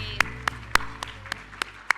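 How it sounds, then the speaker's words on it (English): A few slow, separate claps at a volunteer awards event, spaced about a quarter second apart over a quiet room hum, near and sparse rather than a full ovation. "All right, a big round of applause,"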